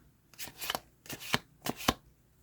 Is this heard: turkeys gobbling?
no